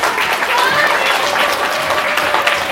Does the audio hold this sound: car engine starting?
no